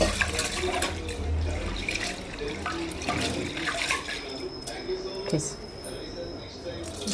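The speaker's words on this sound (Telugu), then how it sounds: "కందిపప్పు అయితే శుభ్రంగా కడుక్కొని" Water splashes and runs as toor dal is rinsed in a vessel, a close, steady trickling and sloshing with occasional clinks, and a voice speaks intermittently over it.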